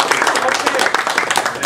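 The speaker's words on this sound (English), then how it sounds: "let's have another warm round of applause for our speaker, Daniel Weinberg." A lecture audience gives a speaker a warm round of applause after a question session, with brisk, dense clapping throughout and a voice faintly audible beneath it.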